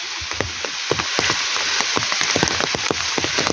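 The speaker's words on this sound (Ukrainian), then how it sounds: "І буквально дощ полився." Rain pouring down in a forest during summer mushroom picking, a dense steady hiss of drops with sharper close patters striking leaves and the ground, fairly loud and with no talk.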